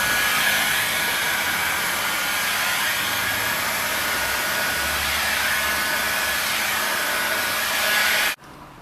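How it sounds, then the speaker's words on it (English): A heat gun blows hot air steadily onto 3M vinyl wrap film, a constant loud whooshing drone that holds for several seconds and then cuts off abruptly. "You'll just get the film kind of flapping in the breeze from the heat gun."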